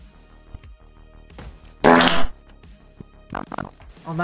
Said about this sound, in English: I'm gonna add a fucking fart sound.